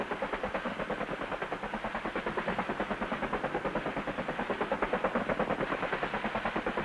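A Bell AH-1 Sea Cobra attack helicopter of the U.S. Marines flies past, its rotor throbbing in a fast, steady rhythm over a loud engine roar that stays strong and even throughout.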